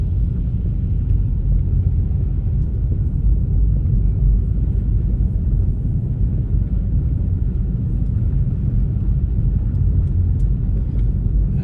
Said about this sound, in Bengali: এখন আমি ড্রাইভ করছি কিয়েলোতিয়ে।